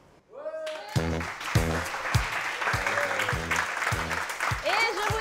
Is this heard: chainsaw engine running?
no